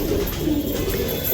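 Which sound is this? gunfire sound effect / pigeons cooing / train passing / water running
pigeons cooing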